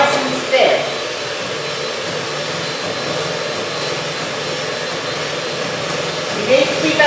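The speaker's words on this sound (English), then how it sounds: "And you're going to whisk this cream until it is stiff, not soft peaks." An electric whisk whips cream until stiff for a lime and mascarpone torte, making a continuous whirring hum that stays loud and even, with brief clatters at the start and end.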